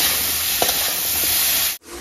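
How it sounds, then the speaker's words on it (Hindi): Food frying and being stirred in a pan while cooking masala: a steady loud sizzle with a few scraping stirs, then a brief cut and the sizzle resumes. "थोड़ा सा पहले भून लीजिए"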